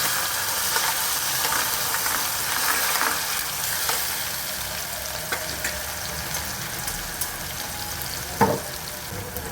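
Chopped onion and curry leaves dropped into hot oil with dried red chillies for dal fry tadka, giving a steady close sizzle and crackle throughout with a sharper spit and clatter near the end.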